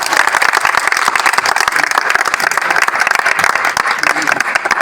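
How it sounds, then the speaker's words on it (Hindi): A theatre audience in an auditorium claps together after a stage play, giving dense, loud, continuous applause for the whole stretch, with a voice faintly mixed in. "एक बार तालियां हो जाए सबके लिए।"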